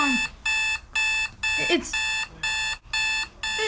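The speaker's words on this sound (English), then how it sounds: "was that the alarm?" Repeated electronic beeping of an alarm clock, seven loud even bursts in a steady on-off rhythm, close by, with a voice briefly speaking over it.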